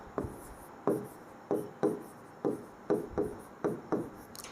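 A teacher writes out a math solution on a board during a class: a steady run of about ten crisp chalk taps and scratches in irregular rhythm, close and fairly quiet, with no talking.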